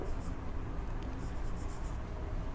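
Faint scratchy strokes of writing on a board during a Class 9 maths lesson on triangles, soft and intermittent over a quiet room background.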